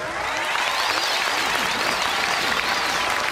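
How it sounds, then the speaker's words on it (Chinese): A studio audience on the Chinese TV job-hunting show 'Fei Ni Mo Shu' breaks into loud, dense applause that holds steady for a few seconds, with a faint swell of crowd noise beneath. "来，热烈的掌声送给帅位老板"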